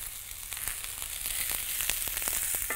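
Onion, celery and carrot sauté in butter and oil with a sprig of rosemary, giving a steady close sizzle with scattered crackles and pops and no talking.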